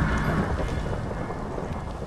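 Video-game lightning strike and thunderstorm on PS4 in a Factions server: a broad, rumbling crack of thunder with rain-like hiss, fairly loud at first and slowly easing off.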